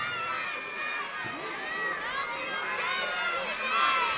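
A crowd of children shouts loudly and continuously in the audience at a Sinterklaas circus show, a sustained roar of young voices filling the hall.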